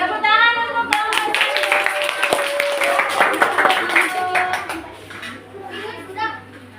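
Schoolchildren in a fourth-grade science class clap for a group of classmates, a lively patter of many small hands with children's chatter over it, fading out toward the end.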